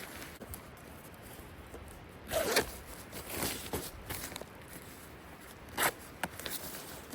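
A backpack zipper on a small ultralight pack is worked in a few quick, rasping pulls, with bursts around the middle and near the end amid soft handling noise.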